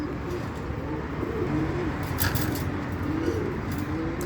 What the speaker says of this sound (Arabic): اتمنى تكون متعت عينك بالحمام الغزار المصري الاصيل